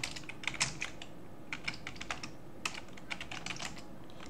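Fingers type steadily on a computer keyboard while writing a script, producing quiet, close clicking keystrokes in irregular bursts with brief pauses, over faint background hiss and no voices.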